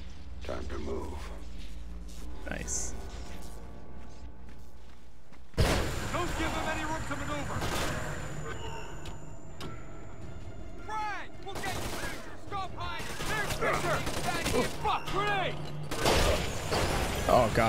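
Gunfire in Splinter Cell: Conviction, bursts of shots and impacts scattered through a busy game soundscape, with a player talking and laughing over it.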